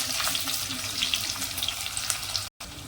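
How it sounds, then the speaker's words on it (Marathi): Sliced onion frying in a pan with star anise, black and green cardamom for an eggplant rice dish: a steady close hiss with light crackles and soft stirring, cut by a brief silent gap near the end. "आता यामध्ये ना चक्री फुल घालूया मोठी वेलची लहान वेलची उभा चिरलेला कांदा घालायचा"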